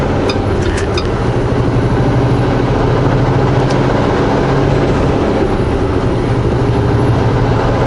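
A truck rig rolling along a highway in the South Okanagan Valley while another rig passes, heard as a steady, loud low engine and road rumble throughout with a few brief higher clanks early on.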